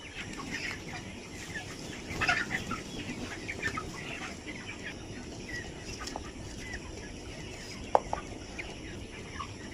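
Chickens cluck around a feed hopper in a poultry shed at early morning, with a steady murmur of many birds and a few louder squawks rising above the flock.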